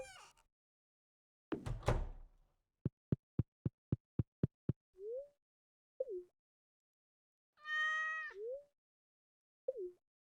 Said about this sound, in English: I always be forgetting to pet the cat